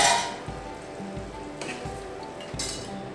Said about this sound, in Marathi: 5 मिनिटांनंतर पॅनवरचं झाकण काढायचं।